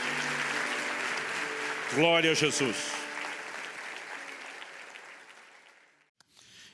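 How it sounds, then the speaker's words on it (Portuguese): A church congregation applauds during a sermon, a broad steady wash of clapping that carries on as a preacher's voice rises over it, then fades out toward the end. "Você pode dar ao Senhor um forte aplauso."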